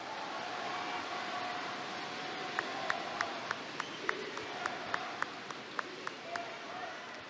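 A political rally crowd at a party convention applauds, a dense wash of clapping that picks up sharper, rhythmic claps partway through, steady and spread out like a large hall audience.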